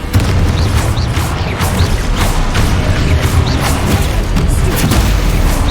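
Booming, crashing blasts from the Confringo explosive spell in Hogwarts Legacy go off repeatedly and loudly across the whole stretch, dense and continuous, with almost no speech.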